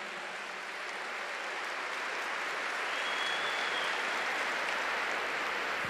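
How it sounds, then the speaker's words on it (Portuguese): A church congregation applauds, many hands clapping in a dense, even wash that swells slightly louder and then holds steady, with no voices heard over it. "Agora se aplauda pela sua disposição."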